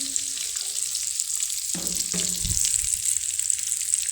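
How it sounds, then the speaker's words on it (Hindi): Potato chicken kabab tikkis frying in a pan, with a steady hiss of oil and a few soft clatters and scrapes as the patties are handled, nobody talking. "जितना भी हमारे पास टिक्कियाँ बनी पड़ी है, हमने इसी तरह से सारी फ्राई करनी है"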